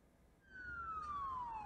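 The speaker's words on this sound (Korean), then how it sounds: "육군 보병을 실어 나르는 장갑차가 사이렌 소리와 함께 러시아 수도 모스크바 거리를 지납니다" A siren sweeps downward in a single long tone as armored infantry carriers pass along Moscow streets, rising suddenly out of a low rumble of traffic and staying steady and fairly distant.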